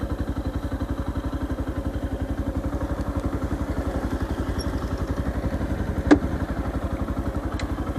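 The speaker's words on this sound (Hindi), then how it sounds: "बहुत बेस हेवी एग्जॉस्ट नोट आ रहा है" A Yamaha FZ-X 150cc motorcycle idles close by, its bass-heavy exhaust note a steady rapid thumping pulse with a brief sharp click partway through.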